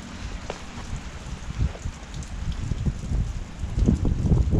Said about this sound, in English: Wind. It's picking up a little bit.